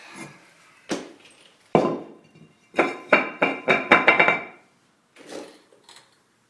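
Heavy metallic hammer strikes on a car brake rotor ring out, a few single blows followed by a rapid burst of about eight hits, close and loud.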